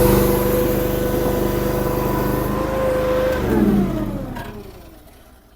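A Chinese mini skid steer track machine reverses across a yard, its engine holding a steady loud drone before shifting pitch midway and fading out as it finishes moving.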